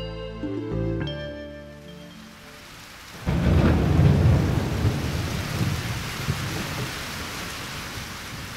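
Heavy rain with rolling thunder: a dense, loud downpour bursts in after about three seconds and keeps hissing steadily, with no voices.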